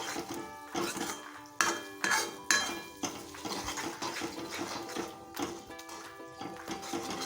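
Spices and shev bhaji are stirred in a pan with a spoon, giving repeated metallic scrapes and clanks in an uneven rhythm over a steady sizzle, close and fairly loud with no talking.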